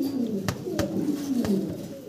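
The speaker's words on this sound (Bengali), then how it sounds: "একদম জেড ব্ল্যাক কালো কুচকুচে নট ডাকতেছে ভাই" Jet-black male exhibition pigeon cooing close by, low rolling coos repeating in a steady rhythm, with several short sharp knocks in the background.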